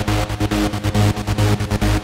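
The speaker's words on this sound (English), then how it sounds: "you have one synthesizer that is played with a trance gate." Trance-gated synthesizer from a Punishing Gray Raven track, its sustained chord chopped into fast rhythmic stutters with sharp gaps, pulsing loudly over a deep bass line.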